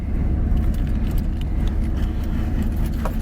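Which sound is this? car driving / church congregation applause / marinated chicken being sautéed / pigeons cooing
car driving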